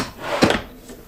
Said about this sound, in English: we've got some pop down pieces here,